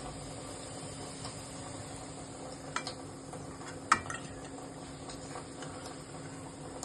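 Khoa gulab jamun frying in hot oil, a steady soft sizzle with faint bubbling and a couple of small clinks from a utensil, quiet and continuous.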